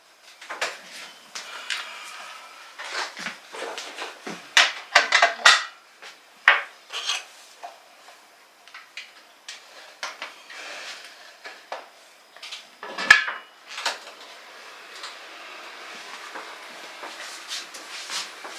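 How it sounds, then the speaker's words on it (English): Metallic clanks, scrapes and knocks of a heavy pressure canner lid being worked loose and lifted after canning mushrooms, irregular and close, with brief quiet gaps. "So we can take the lid off and see what happened."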